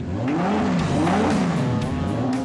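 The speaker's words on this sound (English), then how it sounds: "I think we need to start with the engine, the heart of the car, and in my opinion, it's the best sounding engine in production today" A street car at an automotive car show, its engine revving loudly and close, pitch rising and falling in sweeping surges over a steady rumble, with no voices.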